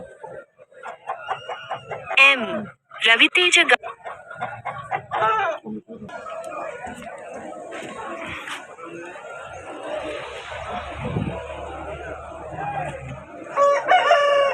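A rooster crows at a poultry market, its calls rising between stretches of Telugu talk and background market bustle, with clucking nearby.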